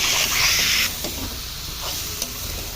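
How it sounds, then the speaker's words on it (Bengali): Boiled potatoes cook with spices in a pan, giving a soft hiss and sizzle that fades after a second, with a few light scrapes and clinks of stirring. "মশলার সাথে আলু কষে নিতে হবে।"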